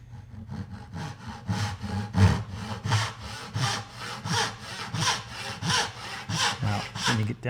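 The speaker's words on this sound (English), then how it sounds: "I'll get that in the vise so we can saw it." A hand saw cutting a wooden tenon clamped in a Moxon vise, with steady rhythmic back-and-forth rasping strokes, close and moderately loud, with no talk.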